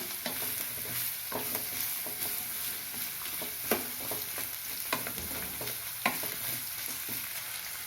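Drumstick pieces sauté in a pan for sambar rice, with a steady soft sizzle and repeated clicks and scrapes from a stirring spoon, close by and with no voices.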